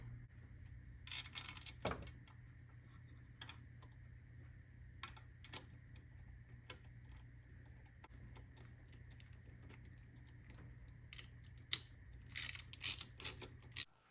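A ratchet tightens coolant pipe bolts on a Jaguar/Land Rover engine: faint, scattered clicks over a low hum, then a quicker run of close ratcheting clicks near the end.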